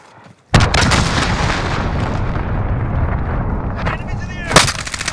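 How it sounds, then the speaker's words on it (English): Cruise missile strike with gunfire in Call of Duty: Modern Warfare: a sudden loud blast kicks off a sustained roar of explosions and shots, with another sharp burst near the end. "Enemy cruise missile incoming."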